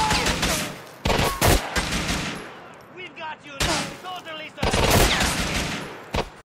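Gunfire in the video game GTA IV: The Ballad of Gay Tony comes as loud, dense bursts of rifle and automatic shots with short gaps between volleys, mixed with faint game voices.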